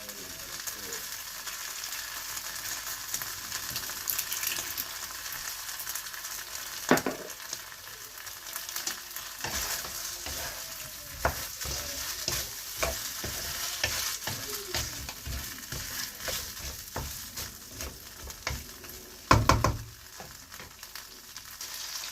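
Garlic and chili sauce sizzle steadily in a pan with frequent clatters and scrapes of stirring, a hiss that lasts throughout and grows busier toward the end, with a sharp knock near the close.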